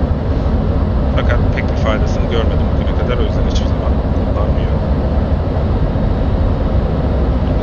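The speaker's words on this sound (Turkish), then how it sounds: "Burada galiba jet sesi fazla." F-16 jet engine in the DCS World flight simulator, a steady loud roar filling the whole clip while someone talks over it throughout.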